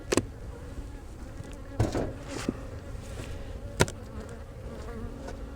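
Steady low buzzing of a few remaining honeybees in an opened, weak hive during inspection, a continuous drone close by, broken by a few sharp knocks and clicks.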